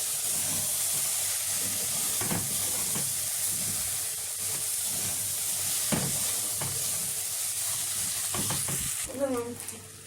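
Rice and vegetables sautéed together in a pan: a continuous loud hiss of sizzling with periodic scraping strokes of stirring, close up, easing near the end.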